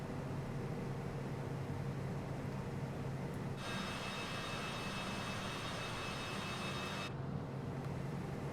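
Pitts S2 aerobatic biplane engine during a late go-around at St. Barts, a steady droning roar that holds constant and loud with a brief higher whine layered in midway.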